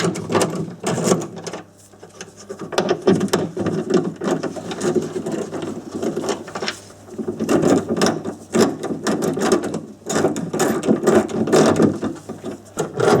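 Ratchet wrench undoing the bolts of a rear wiper motor on an Audi A4 Avant (B6/B7), a busy run of fast clicking pawl bursts, close and loud, with short pauses between pulls.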